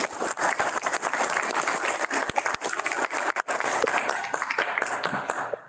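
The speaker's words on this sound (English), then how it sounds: "let's give them all a round of applause" A crowd at a school board of education meeting claps steadily for several seconds, a dense patter of many hands at moderate volume that tapers off at the very end.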